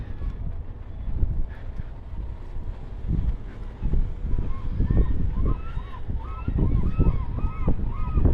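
Geese honk repeatedly from a short distance, several calls overlapping on the water of a bay in Hakodate, over wind noise and a low rumbling background.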